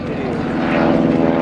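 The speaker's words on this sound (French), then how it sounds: "plus petit des avions jamais construits, un Cri-Cri" A Cri-Cri, the tiny twin-engine propeller airplane, flies at an air show in Chartres, its buzzing engines droning steadily and loudly and rising slightly in pitch as it passes.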